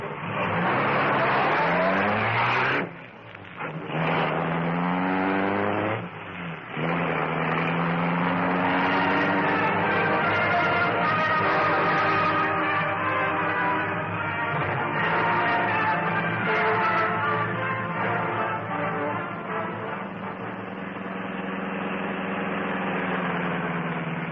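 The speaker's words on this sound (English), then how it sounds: "The great car roared into life." A big black car's engine roars to life and speeds off into the night, a loud, sustained radio-drama effect that surges, briefly dips twice, then holds a long steady roar without speech.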